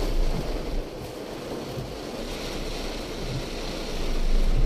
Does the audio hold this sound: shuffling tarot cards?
no